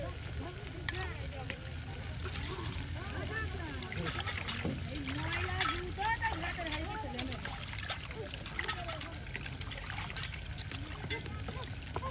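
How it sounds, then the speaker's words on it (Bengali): Onion, garlic and green chilies frying in oil give a soft, continuous sizzle with small crackles and stirring clinks, quiet in the background while a person talks over it throughout. "এই দেখুন ভাজা করে নেওয়া হলো পেঁয়াজ রসুন এবং কি কাঁচামরিচ"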